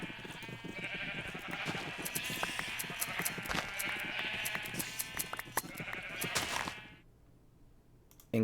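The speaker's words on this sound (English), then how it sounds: "Hello, happy cyan sheep." Minecraft sheep, a cyan one, bleating in a dense, overlapping stream of repeated bleats for about seven seconds before cutting off into near silence.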